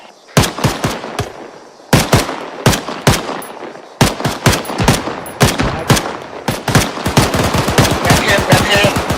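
Sustained machine gun fire in the military shooter game Arma 3, loud close bursts of rapid shots separated by short pauses, growing into near-continuous firing toward the end.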